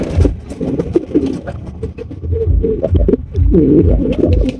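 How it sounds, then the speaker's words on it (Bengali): A pair of black king pigeons coo at a pigeon farm, with repeated low, throaty coos overlapping in a close, busy chorus. "হচ্ছে একজোড়া কিং কবুতর ব্ল্যাক কালারের মধ্যে কিং"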